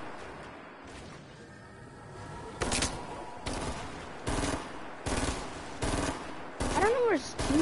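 Bursts of automatic gunfire from a video game shootout, several loud rapid-fire volleys repeating at short intervals, with a voice talking over the action.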